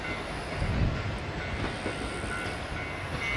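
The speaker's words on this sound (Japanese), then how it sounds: "釧網本線の列車が網走に到着しました。" A Senmō Main Line train pulls into Abashiri station in Hokkaido, a close, heavy rumble of wheels and carriages with faint clacking and a brief high squeal as it slows.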